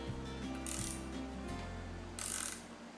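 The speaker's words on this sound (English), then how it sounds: "you're going to want to take a 1/2 inch wrench for that" A ratchet wrench tightens bolts on a bearing block during Z-axis assembly, giving short bursts of clicking over a steady low machine hum, close and fairly quiet.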